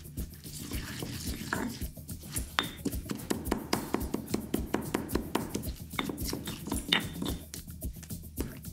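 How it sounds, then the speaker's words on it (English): Brown sugar being stirred into a wet recipe mixture gives close, squelchy, sticky clicks and smacks in an irregular stirring rhythm, steady throughout with no talking. "Oh, a nice squelchy noise."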